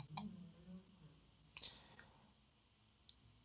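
A computer mouse clicks a download button: a few sharp, close clicks spaced over the moment, with a brief faint bump of noise between them and a quiet room behind.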